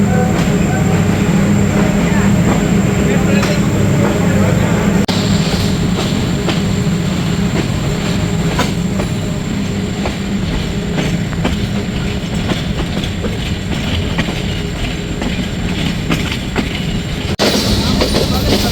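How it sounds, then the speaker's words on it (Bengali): An intercity train leaving Rajshahi station rumbles loudly and continuously along the rails, with rhythmic clacking of wheels over joints and steady heavy mechanical noise from up close. "ট্রেনটি কিন্তু ছেড়ে দিল রাজশাহী রেলওয়ে স্টেশন"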